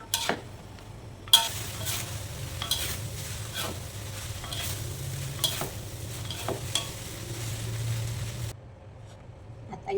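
Pansit bihon rice noodles being stirred in a pan, with repeated scraping and clinking strokes over a low sizzle, steady and close, ending in quiet.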